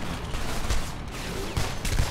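Rapid gunfire rattles through a battle in the video game Homefront, a dense, fairly faint stream of overlapping shots with no speech over it.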